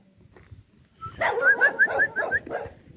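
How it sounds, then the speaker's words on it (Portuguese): Several of the neighbour's dogs bark across the road from a rural smallholding, a quick, rhythmic burst of yelping barks at moderate distance that begins after a quiet stretch. "A cachorrada do vizinho."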